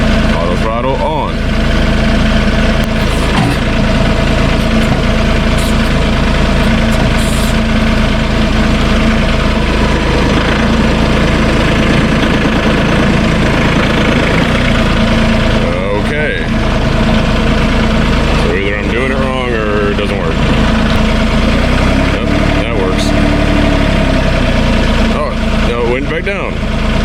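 A Ditch Witch machine engine runs with auto throttle on, a loud, continuous low rumble throughout with occasional louder surges, and a voice speaks now and then over it.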